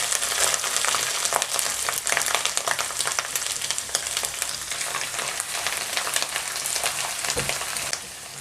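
Onions frying with ginger and garlic in a pan, a dense continuous sizzle with crackling pops throughout, close and loud, with no voices.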